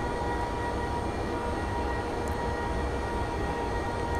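A DDZ double-deck train runs steadily in Train Simulator, a continuous rumbling roll of wheels and motors heard from inside, loud and even with no talk over it.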